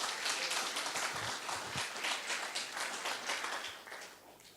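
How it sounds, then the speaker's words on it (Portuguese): Church congregation applauds Jesus during a sermon: a short burst of quiet, scattered clapping that swells briefly then fades. "Quem pode aplaudir a Jesus,"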